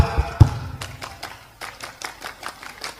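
A scout troop performs the rhythmic tepuk pramuka clap: a few loud claps, a brief pause, then a quick run of evenly spaced claps from a group at moderate distance.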